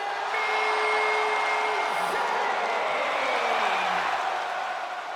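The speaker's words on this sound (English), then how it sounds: "the crowd in Lowell, Massachusetts going crazy for the underdog from the underground, Sami Zayn" Video game arena crowd in WWE 2K26 at a wrestling event in Lowell, Massachusetts, a steady loud roar of cheering that holds a constant level throughout, with faint tonal sounds layered over it.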